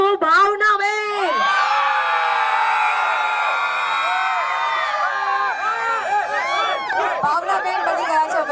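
A packed crowd at a carnival-themed party yells and cheers for a second guest, a loud, sustained roar of many high-pitched voices with whoops rising and falling, then trailing into chatter and scattered shouts.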